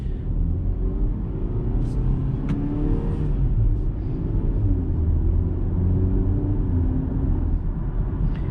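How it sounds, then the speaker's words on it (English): Low, steady road rumble and engine drone heard from inside a 2021 BMW X1 SUV while driving, continuous and even, with no talking. "So this SUV drives nice and smooth and looks very good."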